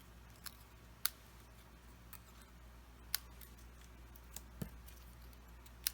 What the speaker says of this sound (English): So I'm going to go ahead and cut these off.